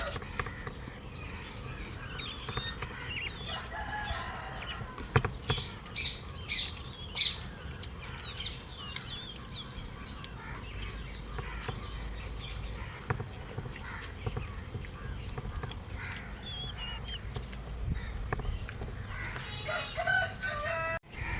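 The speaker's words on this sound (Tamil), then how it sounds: "ஆனால் இப்போ நிறைய கோழி இருக்குது நம்மக்கிட்ட." A rooster crows repeatedly while hens cluck and chatter throughout, with birds chirping in the background of a busy outdoor yard.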